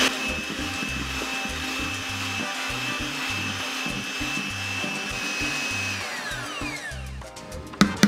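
An electric mixer whirs steadily while beating stiff egg whites with the yolks added. The motor hum holds constant and close for several seconds, then winds down and stops, and a few knocks follow.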